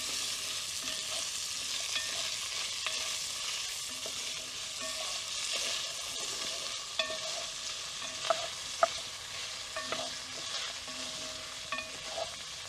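Bacon with garlic and shallots frying and crisping in a pan outdoors on the coast: a constant soft hiss of hot fat with scattered crackles and a few louder pops, close by and with no voices.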